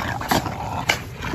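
A young puppy gives soft whimpering whines with a couple of brief raised yelps over a constant background hiss, close by and fairly quiet, with no talking.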